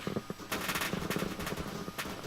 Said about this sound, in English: there's some NPCs on the left, they're going to shoot at me